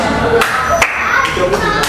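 Schoolchildren clap in unison in a classroom during a Ramadan school program, several sharp group claps in a steady rhythm with chanting voices around them.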